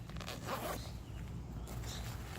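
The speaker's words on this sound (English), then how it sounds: "And it simply zips down." A single zipper is pulled down on a FILBE Camelbak 3-litre hydration carrier, a close, quiet rasping zip lasting about two seconds with faint handling noise.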